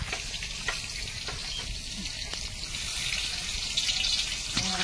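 Meat frying in hot oil in a kadai, a steady bright sizzle and crackle throughout with occasional stirring clinks, growing slightly louder near the end.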